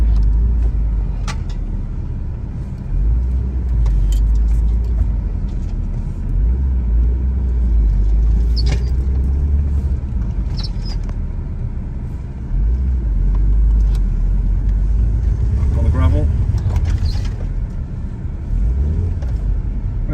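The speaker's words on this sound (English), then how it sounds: "let's get it on the grass, hit the brakes a few times, get the ABS to kick in" An Audi TT engine rumbles steadily up close as the car drives over grass, with a few brief squeaks and clunks as the brakes are hit and the ABS kicks in.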